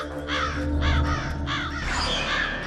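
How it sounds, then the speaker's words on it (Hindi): A crow gives a run of four harsh, rasping caws in close succession, loud and near, followed by a rougher, noisier stretch as the calling trails off. "बेसुरे कौवे, भागो चलो।"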